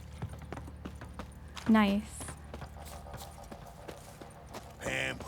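Horse hooves clip-clop in The Witcher 3 as a soft, steady rhythmic patter under game sounds, joined by a few short bursts of effects and a brief spoken word from a player.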